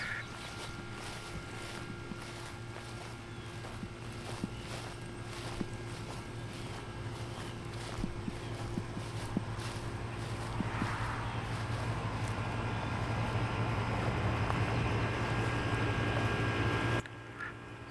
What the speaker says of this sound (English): That noise you hear lets us know that the transmitter is still running